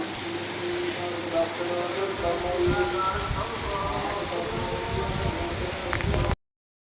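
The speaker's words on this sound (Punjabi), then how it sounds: "ਇਸ ਸਵੇਰ ਦੀ ਸ਼ੁਰੂਆਤ ਮੀਂਹ ਦੇ ਨਾਲ ਹੋ ਗਈ ਭਾਰਾ ਮੀਂਹ" Steady heavy morning rain pours down, a dense continuous hiss with drops pattering on surfaces, before the sound cuts off abruptly at the end.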